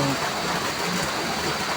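Steady rain falling in the early afternoon, with wind expected to pick up, a dense continuous hiss of water pouring down close by, even in loudness throughout with no pauses.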